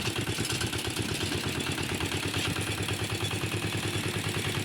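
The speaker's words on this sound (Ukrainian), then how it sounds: "ще тракторець працює" A small tractor engine runs steadily nearby, a continuous chugging idle with a slight rhythmic clatter and no voices.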